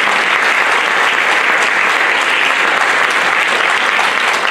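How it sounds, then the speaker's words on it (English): Loud, dense applause fills a spring choir concert hall, a continuous roar of clapping from a large audience held at full strength from start to finish. "so please round of applause for that."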